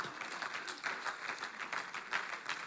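A church congregation applauds in praise of the Lord, a faint, steady patter of many hands clapping together across a room, with no voices standing out.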